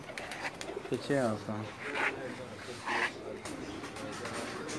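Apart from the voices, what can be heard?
teddy pigeons cooing on a rooftop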